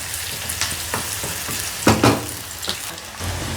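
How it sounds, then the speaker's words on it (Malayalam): Onions frying in hot oil with a sprig of curry leaves added, a steady close sizzle with stirring scrapes and a couple of louder bursts of spitting in the middle, no voices. "ഉള്ളി മൂപ്പിച്ച് ഒരു തണ്ട് കറിവേപ്പില ഇട്ടിട്ട്"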